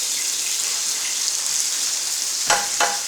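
Steak frying in a pan after basting: a loud, steady hiss of sizzling fat with a couple of sharper spatters near the end, no voices.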